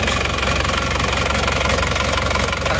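A cold Isuzu Panther diesel engine running with a dense, rapid metallic knocking, loud and close and continuous, with no talking over it.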